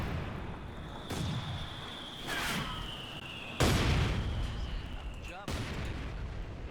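Mortar shells fire and land in the real-time strategy game Company of Heroes 2, giving several deep booming impacts a second or two apart against a constant rumbling battle backdrop, under a commentator's voice.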